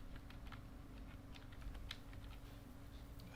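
Typing on a computer keyboard while entering code, with a fairly steady run of light key clicks over a constant low hum, no voices.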